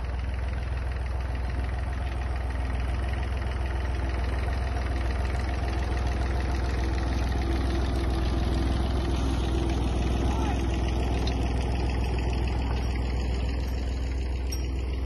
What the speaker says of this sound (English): you may notice the tractor going slightly faster